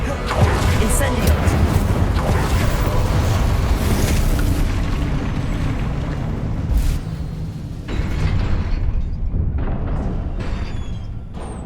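Incendio fire spell blasts in Hogwarts Legacy, a continuous roaring, whooshing fiery rumble that holds loud for several seconds, then breaks into a couple of further bursts that fade toward the end.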